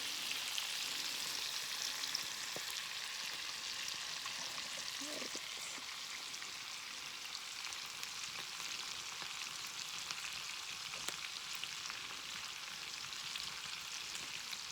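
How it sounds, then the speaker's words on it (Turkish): Fish fry in a pan with a steady, dense sizzle and crackle that holds even throughout, with a few faint clicks and small stirring sounds mixed in. "Ben de bizim balıklarımızı pişiriyorum."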